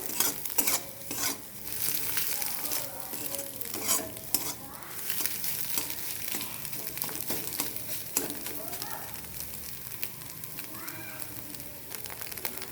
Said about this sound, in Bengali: এবার ডিমটাকে একটু ভালো করে নাড়াচাড়া করে নেব।